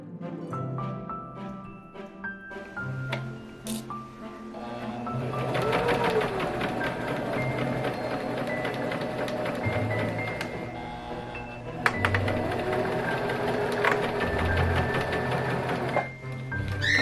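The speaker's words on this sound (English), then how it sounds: "I was sewing pin tucks for a very long time." A sewing machine stitching pin tucks on Victorian drawers, running close and steady for a long stretch with some clinks and small mechanical knocks, and no talking.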